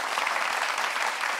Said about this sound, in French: Recevons-les ici avec vos applaudissements